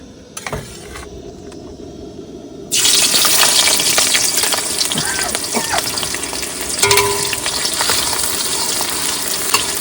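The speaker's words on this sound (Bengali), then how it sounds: "তেলও গরম হয়েছে এবার দেবো পেঁয়াজ" Onions go into hot oil in a pan where potatoes were just fried: a quiet simmer suddenly bursts into loud, dense sizzling that carries on steadily and close by.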